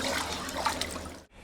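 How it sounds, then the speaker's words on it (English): A hot knife blade, heated to about 800 degrees Celsius, is plunged into cold water, giving a steady loud hiss and sizzle with bubbling that runs over a second, then cuts off abruptly. "The blade is heated to 800 degrees Celsius, then quickly cooled in cold water."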